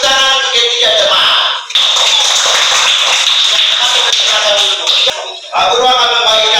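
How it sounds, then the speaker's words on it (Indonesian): Schoolchildren in an Indonesian classroom clap for three classmates: dense, loud, sustained applause that dips briefly, then swells again with some cheering voices mixed in. "berikan tepuk tangan untuk ketiga teman"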